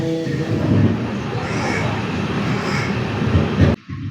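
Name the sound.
train slowing down near Chengannur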